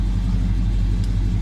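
Up close, a 1970 Dodge Charger's engine idles just after a cold start, its deep, even rumble pulsing steadily for a brief moment.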